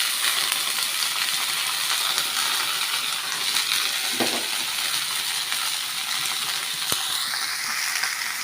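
Onions and potatoes frying in a hot pan give a steady, even sizzle and hiss that runs the whole time, with one soft clink partway through.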